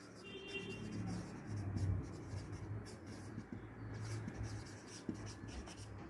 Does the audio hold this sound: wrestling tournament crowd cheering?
no